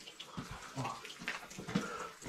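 In an abandoned manor house, water runs from a tap in a faint, uneven splashing trickle with small clatters mixed in.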